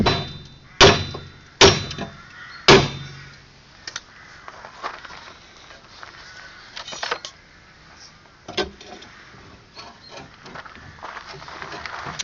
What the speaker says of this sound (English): big hammer, you need to hit the part that it goes through